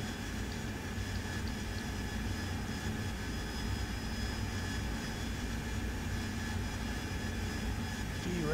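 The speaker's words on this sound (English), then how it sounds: "I want to try to land a Harrier asymmetrically." A Harrier jet coming in for a vertical landing in the DCS World flight simulator, an unbroken, loud jet engine roar with a constant whine that holds for the whole stretch.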